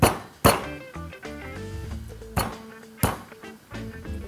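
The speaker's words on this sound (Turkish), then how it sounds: "Haşlanmış kabuklu patateslerin üzerine bu şekilde vurarak biraz eziyorum." Boiled jacket potatoes are struck to crush them, giving several sharp, loud thuds with a ringing, clinking edge, spaced irregularly with pauses between blows and no talk.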